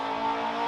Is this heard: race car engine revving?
yes